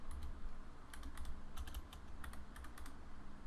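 Fingers tap a shortcut on a computer keyboard during a Blender modelling session, giving quick clusters of crisp key clicks over a low steady hum, with no talking.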